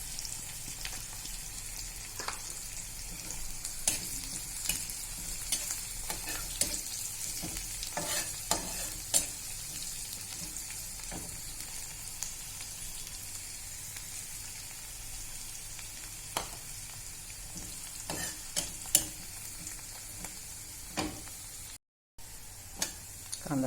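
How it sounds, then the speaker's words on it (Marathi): Onion sautéing in a pan with asafoetida, a soft continuous sizzle punctuated by scattered spoon scrapes and clicks against the pan, fairly quiet and close. "कांदा छान परतला आहे."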